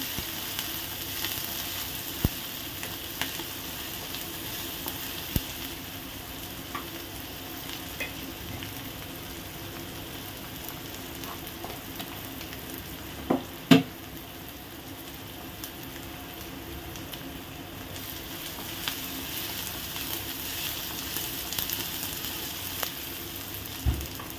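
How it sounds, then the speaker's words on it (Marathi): Upma ingredients, tomato among them, sautéing in a pan, a low steady sizzle with scattered clicks and one sharper knock of a utensil partway through, no speech. "छान परतवून घेऊ।"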